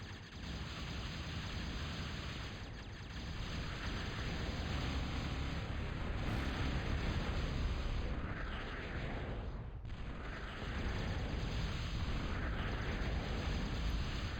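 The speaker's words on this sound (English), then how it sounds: "More nice bombing by Venom." Heavy, continuous rumbling explosions from bombers raining bombs in a real-time strategy game on The Cold Place map, dense and loud with no letup.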